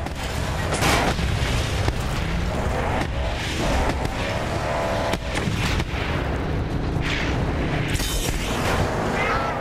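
Thunderstick launchers firing in Mad Max, a dense, continuous barrage of explosive booms and blasts filling the scene, loud and close with no pauses.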